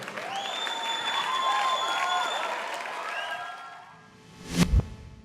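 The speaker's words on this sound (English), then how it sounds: "Thank you for keeping the applause break." Audience applause during a talk show, a broad wash of clapping under faint musical tones that fades, followed by a brief louder burst near the end.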